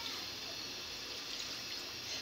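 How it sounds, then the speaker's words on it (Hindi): Water is poured into a pan of frying chicken and potato (aloo) curry, giving a steady, soft hissing rush of liquid that runs continuously. "अब हम इसमें पानी ऐड कर देंगे"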